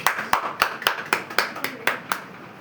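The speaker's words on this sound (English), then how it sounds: "put round of applause for ourselves" At a Toastmasters meeting, sparse audience clapping comes as about nine distinct, evenly spaced claps, fairly close and crisp, with quiet gaps between.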